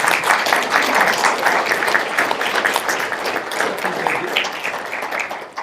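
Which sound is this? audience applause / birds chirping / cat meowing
audience applause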